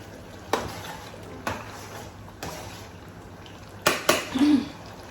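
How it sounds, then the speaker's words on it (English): A tomato and pepper stew mixture frying in a pot gives a low steady sizzle, broken by a few sharp scraping stirs and clinks of a utensil against the pot. "So I'm going to let this fry"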